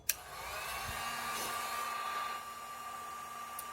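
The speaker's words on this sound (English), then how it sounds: "we're going to do my 20-year-old heat gun from Harbor Freight" Twenty-year-old Harbor Freight heat gun near the end of its life, running on its low setting, blowing a steady airy hum with a faint tonal whine after a brief click at the start.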